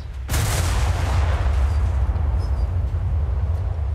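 Heavy naval guns in a warship video game let loose with a deep, sustained boom and rumble that starts sharply and rolls on loudly, with no talk over it.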